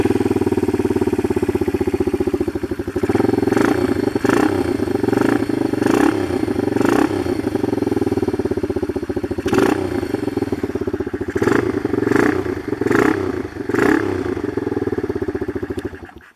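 Yamaha TW200 rat bike single-cylinder engine running close by, a steady chugging idle with a series of short throttle blips that rise and fall in a loose rhythm.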